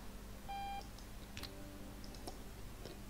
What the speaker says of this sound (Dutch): Misschien moet ik die wekker afzetten.